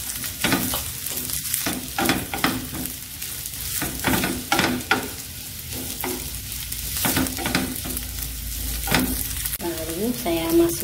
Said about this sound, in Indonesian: Tumis sosis sebentar.